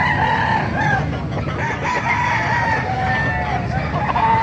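Hens at a poultry market in Calumpit, Bulacan, clucking and squawking close by in a busy, continuous chorus, with voices chatting underneath.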